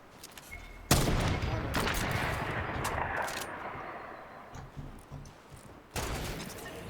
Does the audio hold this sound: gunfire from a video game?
yes